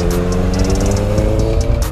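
A Honda CBR 650 motorcycle fitted with a Two Brothers aftermarket exhaust holds a loud, steady, throaty engine growl up close, with faint clicking over it and no talking.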